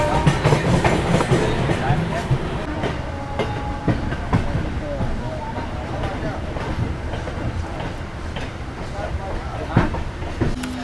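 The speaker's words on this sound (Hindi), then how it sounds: "ये है जम्मू मेल एक्सप्रेस, सूबेदारगंज श्री माता वैष्णो देवी कटरा के बीच में चलने वाली" Jammu Mail Express running between Subedarganj and Shri Mata Vaishno Devi Katra, heard from another moving train at a railway crossing, gives a steady rumble of wheels on rail with faint clicks throughout, with a voice speaking over it.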